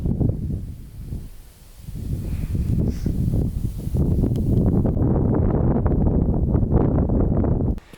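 Strong, gusting wind outdoors in Alaska roars as a loud, continuous low rumble with buffeting bursts, steady through most of the stretch before cutting off abruptly near the end.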